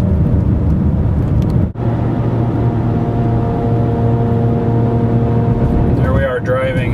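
Tesla-built electric motor in a Toyota RAV4 EV driving at about 60: a steady, loud whining hum with a constant tone and road noise underneath, and a brief dip partway through.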